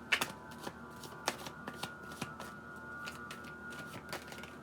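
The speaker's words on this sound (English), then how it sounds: "Shuffling the deck for Capricorn." A tarot deck shuffled by hand during a Capricorn reading, giving soft, close riffling snaps and flutters in irregular bursts, quiet and unhurried, with no talking over it.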